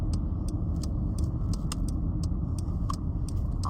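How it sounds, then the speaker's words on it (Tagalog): A car rolls slowly into a parking spot, a steady low road and engine rumble with faint clicking ticks scattered on top, no voices. "I'm going to park my car na"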